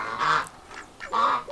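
A lone duck, kept alongside chickens, gives two loud, close quacks about a second apart, with quiet pauses between them.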